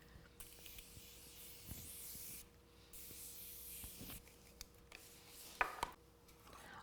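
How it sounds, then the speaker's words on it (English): Makeup setting spray misted onto a face in a few short, airy hisses, each burst separate and quiet at close range, with faint handling rustles and clicks between them. "I'm going to do my first round, as I said, of setting spray now"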